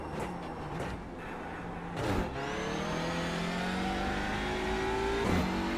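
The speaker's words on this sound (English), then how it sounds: "I love the sound of the upshifts." A race car engine in the iRacing simulator revs hard and steadily, with sharp upshifts that cut the pitch abruptly before it climbs again; loud and close with no talking.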